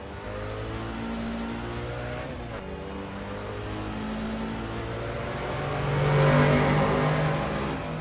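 A loud, steady Chevron historic race car engine in Assetto Corsa drones on with layered harmonic tones, swelling briefly as it revs higher before settling back.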